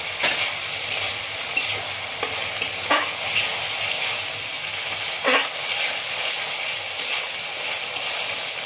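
Ginger-garlic paste and whole green chillies fry in a pan with a constant dense sizzle, punctuated by occasional soft scrapes of stirring, close-up and with no talking.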